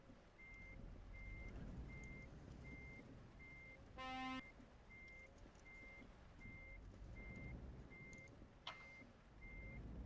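Reversing beeps from a truck parking in Euro Truck Simulator: a steady, evenly spaced series of about a dozen sharp beeps over a low engine rumble, with a brief louder electronic burst partway through.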